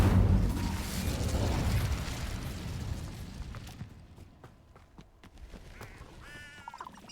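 Incendio fire spell cast in the Hogwarts Legacy video game: a loud, roaring burst with a deep boom that rumbles for a few seconds, then decays into quieter crackles and small magical chimes.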